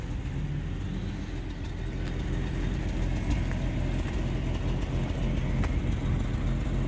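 A 1951 Bentley Mark VI idles steadily with a slight miss, a low continuous engine rumble with faint irregular ticks, close by and without talk.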